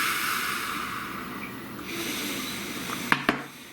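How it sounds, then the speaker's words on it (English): One person takes a slow, deep breath: a long, airy inhale, then a softer exhale, ending in two brief nasal snorts. It is close and alone, with no talk. "Please take a nice deep breath."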